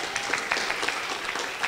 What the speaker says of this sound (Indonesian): Boleh tepuk tangan sekali lagi kali ya.